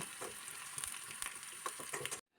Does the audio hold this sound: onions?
yes